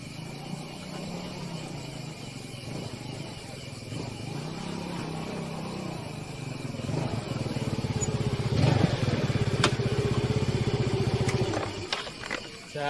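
A motorcycle engine runs steadily at close range, its low rumble building louder toward the end alongside some clatter and footsteps.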